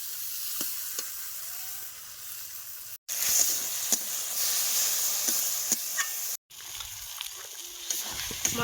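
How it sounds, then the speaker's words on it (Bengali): Spice masala for a chicken curry is stir-fried over a coal fire outdoors on a winter afternoon, a moderate continuous sizzle with spatula scrapes, broken by two brief silent gaps. "মশলাটা খুব ভালো করে কষাই করে নিচ্ছে"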